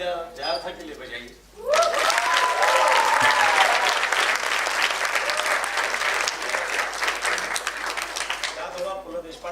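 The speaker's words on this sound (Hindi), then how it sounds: "तालियां जया था के लिए बजाइए।" A theatre audience bursts into loud, sustained applause for an actor in a stage play, the dense clapping starting abruptly after a brief spoken moment and holding steady to the end.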